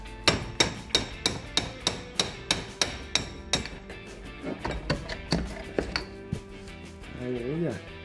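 Light, careful hammer taps loosening the cylinder on a Yamaha Jog RR scooter engine, a regular series of sharp close knocks that turns into scattered, irregular taps.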